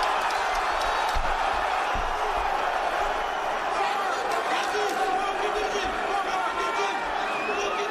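A large crowd at a PFL 9 2024 mixed martial arts fight roars and cheers on its feet, a dense sustained wash of voices and whoops with a commentator talking over it.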